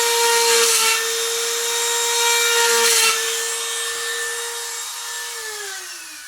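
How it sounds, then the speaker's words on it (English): Steady rasping of a hand saw cutting through hard wood, continuous strokes up close, with a whining tonal ring that drops in pitch near the end. "And I just cut between the holes that I've drilled."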